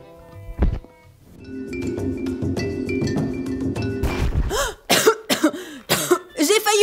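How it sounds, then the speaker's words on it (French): Several sharp coughs close to the listener, coming in quick bursts with short gaps, after a stretch of quieter rustling and breathing. "Heureusement que j'ai commencé à tousser"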